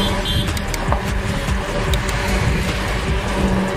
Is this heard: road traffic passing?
yes